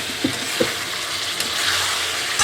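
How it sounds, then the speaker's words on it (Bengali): Meat fries in a pan with a steady, close hiss as potatoes and water go in. Soft clinks of stirring come through over the sizzle. "এবার আমি আলুটা দিয়ে জল দিয়ে দেবো"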